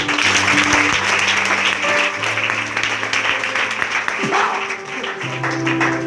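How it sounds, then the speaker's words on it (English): A congregation claps loudly for Jesus at a lively miracle service, a continuous roar of hands mixed with sustained musical tones and voices calling out underneath. "Clap your hand for Jesus."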